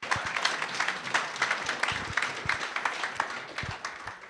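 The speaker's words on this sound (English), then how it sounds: "let's give him a really loud round of applause" A conference audience at a soil health conference gives a loud round of applause for an absent colleague, with many hands clapping continuously and a few sharper individual claps standing out near the front.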